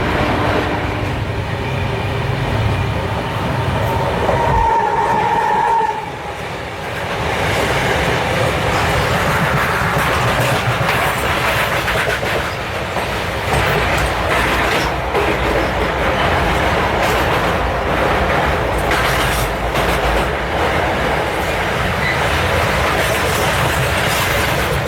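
A train passes close by on an Indian railway line during a run of the Ahmedabad–Gorakhpur Express, heard as a steady, loud rumble and rattle that continues through the whole stretch with no voices.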